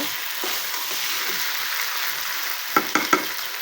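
Curry sautés in a pan with a continuous close sizzle, soft stirring scrapes through it, and three sharp clinks of a spoon against the pan near the end, with no talk.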